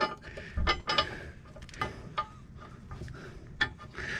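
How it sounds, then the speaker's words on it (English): A bolt being turned with a hand tool on a B&W Companion slider 5th wheel hitch bracket, giving a few scattered metallic clicks and ratchet-like ticks, close and fairly faint. "So I'm turning the bolt so it pulls that snug against this here bracket."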